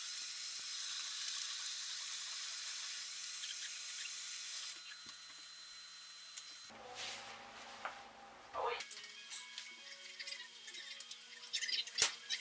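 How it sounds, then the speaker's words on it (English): A household tap runs as hands are washed beneath it, a steady close water hiss for about five seconds. It then stops, leaving faint splashes, handling noises and a few light clicks. "now I gotta wash my hands."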